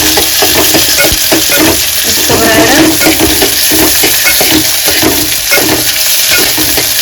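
Vegetables fry in hot oil for spicy Maggi noodles with a constant, close, loud sizzle. A spatula stirs them in repeated scraping strokes throughout, and a voice says a couple of words.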